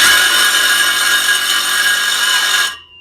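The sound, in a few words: power tool running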